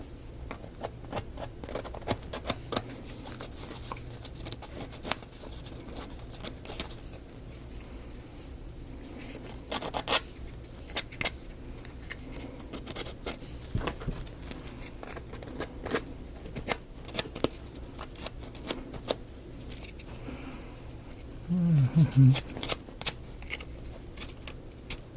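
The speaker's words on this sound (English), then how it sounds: "get done with this sanding" Sanding parts of a ROKR Magic Amusement Park swing ride model kit gives steady close scratchy rubbing strokes, with intermittent sharper clicks and brief pauses over a long stretch.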